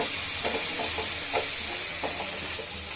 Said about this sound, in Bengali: এদিকে মশলাটাকে কষিয়ে নেব খুব ভালো করে